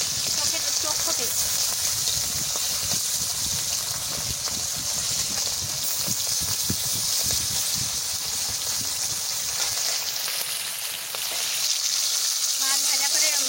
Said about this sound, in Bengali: মাছ ভাজা করে পাল্টাই নিচ্ছি